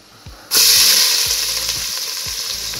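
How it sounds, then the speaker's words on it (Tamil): Cinnamon, cloves and cardamom hit hot oil in a pan for Ambur-style mutton dalcha, bursting into a loud, steady sizzle after a quiet start, with soft stirring taps underneath; no talk. "இப்போ சட்டியில் எண்ணெய் காஞ்சிருச்சு. இப்போது பட்டை, லவங்கம், ஏலக்காய் ஆட் பண்ணுறோம்."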